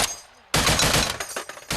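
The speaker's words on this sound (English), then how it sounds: "They fire on Russian positions using AKs and a U.S.-supplied Browning heavy machine gun." Rapid gunfire from AK rifles and a U.S.-supplied Browning heavy machine gun, fired by Ukrainian paratroopers from a winter trench on the eastern front, bursts in loud and close after a brief quiet moment and continues in dense, overlapping volleys.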